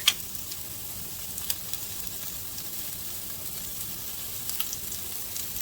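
Onions sautéing with a light seasoning of salt and pepper in a pan, a soft steady sizzle of frying with occasional small pops and stirring clicks, close but quiet, with no talking.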